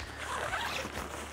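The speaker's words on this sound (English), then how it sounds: "What I like about the bivy, the zipper functionality is very easy, internal and external." A zipper being drawn on an Outdoor Research Stargazer bivy sack, giving a continuous close raspy zip with no talk over it.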